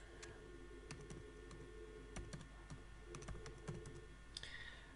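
Computer keyboard typed on for accounting software entry, a quiet run of light, irregular key clicks over a steady low room hum, close and alone without speech.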